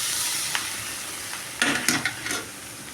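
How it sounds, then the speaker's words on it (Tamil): Green gram (mung beans) sizzles softly in a pan, with a few scraping stirs and clinks of a spoon near the end. No one speaks. "இப்போ எடுத்து நம்ம அந்த பச்சை பயிறு நம்ம கொட்டிடலாங்க."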